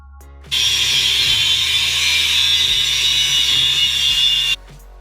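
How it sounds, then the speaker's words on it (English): A 4-inch angle grinder cuts through the steel chassis rail of a Chevrolet Monte Carlo SS during rust repair, giving one steady, loud, high-pitched whine that runs about four seconds and then stops abruptly, with no talking. "Transfer the template shape onto the metal and start cutting it away. And we're just using like a 4-inch grinder."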